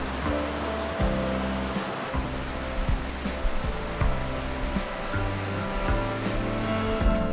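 A river rushes powerfully through a Swedish forest, a steady loud roar of moving water throughout with no one talking.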